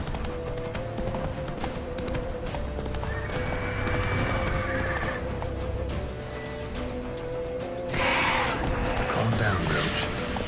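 In The Witcher 3, the horse snorts and whinnies over a steady clip-clop of hooves, close and continuous, with game sound and a voice mixed in.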